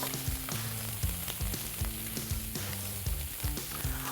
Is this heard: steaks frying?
yes